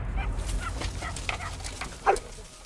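Hungry dogs on an island whimper and yip in short, close bursts, with one sharper bark-like cry near the end over a low background rumble.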